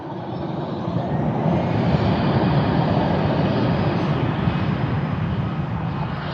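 A Cathay Pacific airliner departs Frankfurt airport bound for Hong Kong, a deep sustained jet roar that swells after the first second and holds steady.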